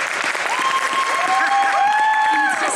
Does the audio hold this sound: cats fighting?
no